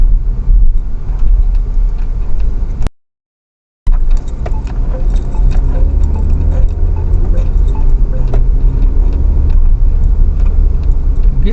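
A Jac JS4 car drives along with a steady low road and engine rumble, cut by a brief silent gap, plus faint ticking in the cabin and no talk.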